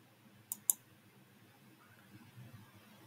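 Two quick, crisp computer mouse clicks land close together near the start, followed by a faint, steady room hush.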